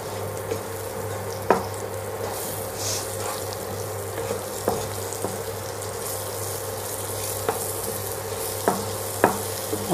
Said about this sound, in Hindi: और इसको भी जो है 1 मिनट तक अच्छे से भून लेंगे।